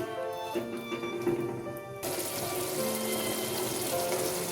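Prawns sizzling in a hot pan during a Bengali mustard-poppy prawn curry, a steady close frying hiss that swells and turns louder partway through, with no talking.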